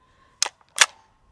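Two sharp metallic clacks from the charging handle or bolt release of a 7.5-inch AR pistol in 7.62x39 that fails to chamber a round, close and crisp in otherwise quiet surroundings.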